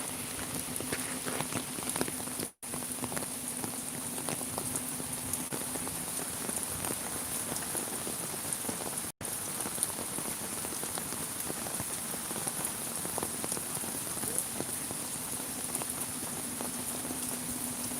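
Steady, heavy rain pours continuously beside the Surma River in Sylhet, a dense hiss of drops drumming on surfaces with no pauses, close and loud throughout.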